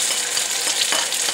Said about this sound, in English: when these eggs hit in there, you want them to sizzle